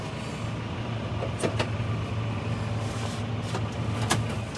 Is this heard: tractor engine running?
yes